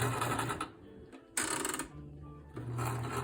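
A Brother LS-1217 sewing machine runs a zigzag stitch in two quick bursts, a close, steady mechanical whir and patter separated by a short pause, with no voices.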